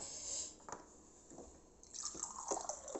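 Water poured into a cup for drinking, soft trickling and dripping splashes at close range, quiet and continuous, with no voices.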